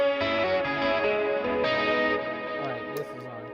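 An electric guitar runs through an HX Effects unit set to a 70s chorus and Cosmos echo with mild tube compression, sustained chords with a warbling shimmer and echo tails, loud and close, ending on a lower repeated figure.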